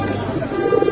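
Giribaz pigeons cooing in soft, low repeated murmurs close by, with people talking over them throughout.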